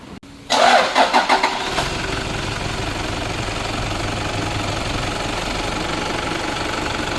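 A car engine cranks briefly and catches, then settles into a steady close idle after Shell flushing oil has been added.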